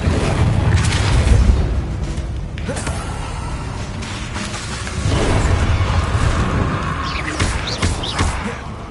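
Confringo blasting spell explosions in Hogwarts Legacy come as repeated heavy booms and crashes over a dense, noisy game soundscape, loud and close, with a voice speaking briefly between blasts.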